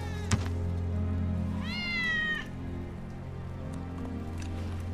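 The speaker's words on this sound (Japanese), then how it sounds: "ウェッジの猫だ" A cat in the video game Final Fantasy VII Remake gives one clear, drawn-out meow midway, set over a steady low game ambience with a faint thunk near the start.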